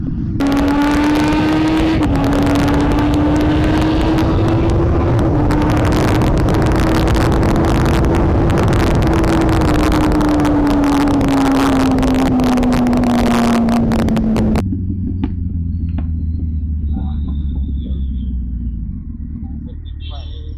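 Road traffic rumbling around a Kawasaki Versys 1000 motorcycle on a ride, steady loud engine drone with a rising and falling tone for most of the stretch, then dropping to a quieter idle hum near the end.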